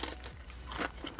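Teeth bite into a crispy Jack in the Box birria tiny taco, a fast food snack, giving a short, close, dry crunch with brittle crackle over about a second.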